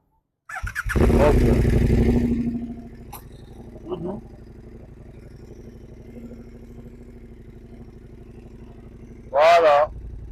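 A motorcycle at a riding school starts up with a loud close roar, settles into a steady idle, then gets a brief sharp rev near the end; a short spoken word comes over the engine.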